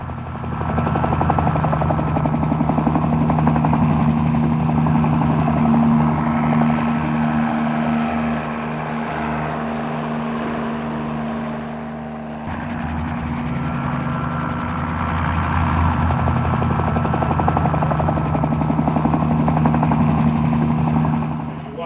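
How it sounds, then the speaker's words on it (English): Helicopter in flight over Ipswich, a steady loud rotor thump and turbine whine holding for about twenty seconds, dipping slightly midway before swelling again. "I rented a helicopter and took these one-of-a-kind shots while the village was still on site."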